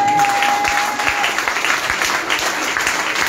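An audience applauds a woman at a French-language church gathering, dense steady clapping from a crowd, loud and close, continuing without a break.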